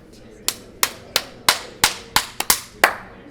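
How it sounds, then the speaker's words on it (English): Nine sharp hand claps, close and loud, spaced about a third of a second apart with a quick double near the end, made to sync audio at a BlizzCon 2016 interview. "Clapping is happening."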